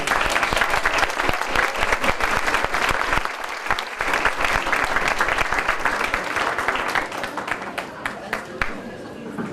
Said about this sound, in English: Let's give the survivors another round of applause.